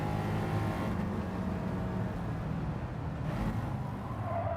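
Sustained car engine drone in the racing video game Gran Turismo 7, a steady loud rumble holding at a constant level throughout with no talking.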